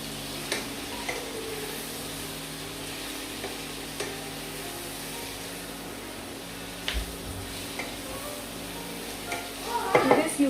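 Boiled vegetables for Kerala-style aviyal are stirred in a pan, a low steady sizzle with occasional soft utensil knocks and a louder clatter at the end, no voices.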